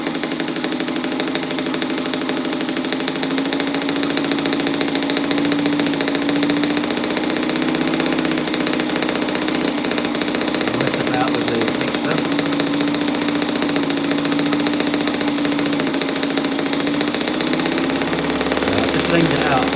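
A petrol four-stroke model boat engine idling slowly while the boat is pushed along: a steady, close, buzzing putter with an even rapid rhythm, continuous and unchanging throughout.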